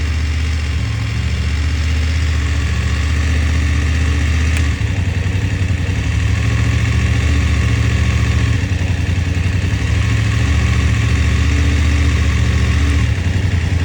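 BMW F750GS motorcycle engine with a faulty electronic throttle, running steadily close by with a low, continuous engine drone and a slight shift in pitch partway through, never rising into a full rev.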